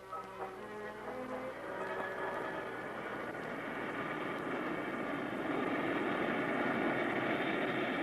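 Airplane engine noise at an international airport in West Palm Beach in 1966, a steady broadband roar with a tonal hum that swells slightly louder toward the end, heard alone under light background noise.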